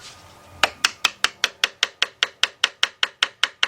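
A short scrape, then a rapid, evenly spaced series of about fifteen sharp metallic taps of a hammer on a screwdriver wedged under a car engine's valve cover, close and crisp, with no talking.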